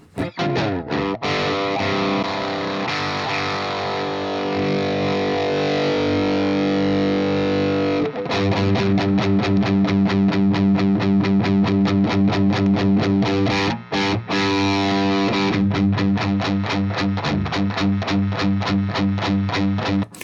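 Heavily distorted electric guitar chords through a GCI Bad Larry distortion pedal ring out loud and sustained, then switch to fast chugging palm-muted rhythm after a brief break.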